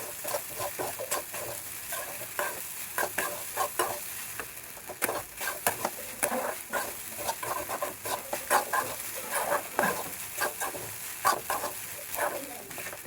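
Sabudana khichdi, soaked tapioca pearls, being stirred and fried in a pan: quick, repeated scraping strokes over a constant soft sizzle, close and fairly loud.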